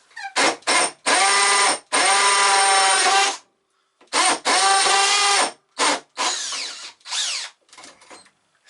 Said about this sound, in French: j'ai percé la brique sans aucun problème